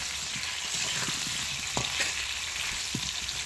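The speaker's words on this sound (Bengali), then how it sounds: "এগুলো একদম লাল করে ভেজে নেবো আমি," Chandramukhi potatoes salted and frying in a pan, a loud continuous sizzle close up with scattered clicks and scrapes of stirring throughout.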